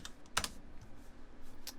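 Brief, quick typing on a computer keyboard while entering a web search, a few close key clicks in a short burst over a faint room hum.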